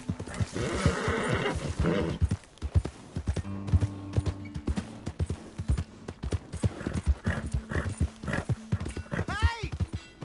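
Rhythmic clip-clop of hooves up close in Red Dead Redemption 2, with a horse's neigh near the end and a voice speaking intermittently over the hoofbeats.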